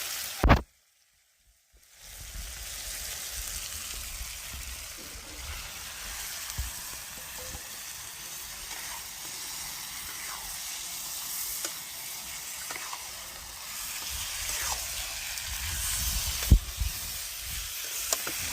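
Marinated meat frying in hot spiced oil, a loud continuous sizzle and hiss starting abruptly after a brief silence and holding steady, with occasional crackles and stirring scrapes close by.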